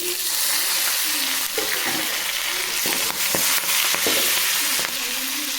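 Tomatoes sauté with vallarai (brahmi) greens in a pan, a close steady sizzle broken by scraping stir strokes from a spoon against the metal.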